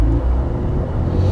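A 2020 Mercedes-Benz C43 AMG 4Matic engine rumbles steadily at idle with a deep exhaust drone, loud and close, no voices.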